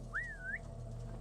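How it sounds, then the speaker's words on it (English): A single smooth whistle rising and wavering, used to lure guards in a Viking video game, heard clearly over a low steady game hum. "Sometimes you have to whistle a few times to coax them out of their normal patrol patterns."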